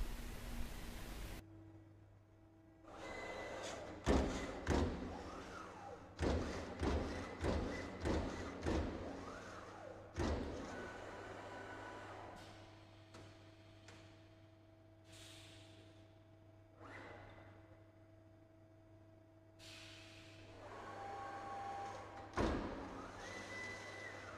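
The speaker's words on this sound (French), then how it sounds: "Les pinces s'ouvrent et reculent de 3 mm, se déplacent, avancent à nouveau de 3 mm et serrent à nouveau la tôle" A Boschert sheet-metal punching machine cycling its clamps, which open, retract, shift and close again on the metal sheet: a series of sharp mechanical clunks and hisses in quick bursts, separated by quieter stretches of steady machine hum.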